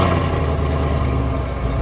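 A 2019 Camaro SS running E85 in sport mode roars at start-up, a loud, dense, steady engine rumble close by with no talk over it.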